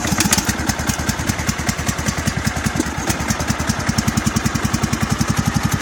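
A Kubota engine runs with a steady, fast, chugging idle, loud and close, its even pulses going on without a break and with no voices.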